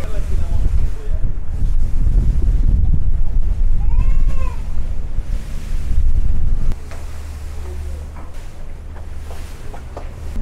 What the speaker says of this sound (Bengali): আজকে প্রচুর বাতাস, যদিও বৃষ্টি নেই কিন্তু প্রচুর বাতাস।